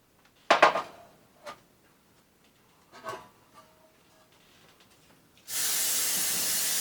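Cooking spray hisses into a bread pan for banana and apple bread, a steady broadband spray lasting over a second at the end, preceded by a few brief clatters of handling the can and pan.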